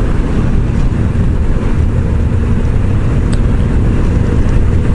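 Motorcycle riding along a road and overtaking a lorry, with a loud, steady engine and road rumble mixed with heavy wind roar throughout, and no voices.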